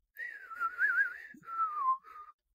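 A person whistles a short wavering tune, imitating an eerie whistled melody heard outdoors: two sustained phrases with a brief break between them, clear and alone.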